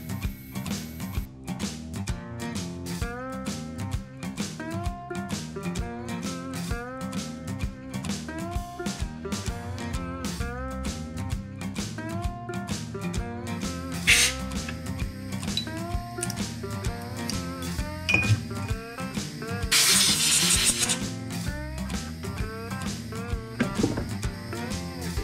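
CNC mill cutting the outside profile of a throttle body adapter: a steady, close machining whine with rhythmic tonal chirps and clicks, plus a brief loud hiss burst of air or coolant near the end.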